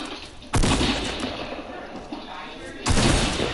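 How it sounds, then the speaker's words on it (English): Video game gunfire lands as two loud, close bursts of shots, one near the start and another near the end, with rumbling combat noise between them and no clear speech. "I'm getting shot from both ways."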